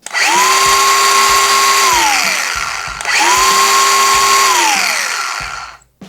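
DeWALT 412 cordless angle grinder on a fully charged 5A battery, switched on twice in a row; each run spins up to a loud, steady whine that rises and then winds down, with a brief gap between the two runs.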